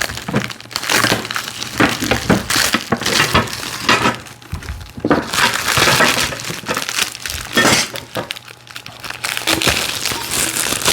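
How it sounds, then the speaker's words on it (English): A knife cuts and tears plastic packaging off the parts of a VEVOR mobile TV stand, making loud irregular bursts of crinkling, crackling and snapping plastic with short quiet gaps between them. "And I think we'll use our knife. Cut some of this plastic off here."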